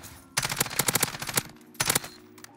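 Rapid bursts of automatic gunfire from a shooter video game rattle off in quick volleys, then pause and return in a shorter burst, loud and close with no talking over them.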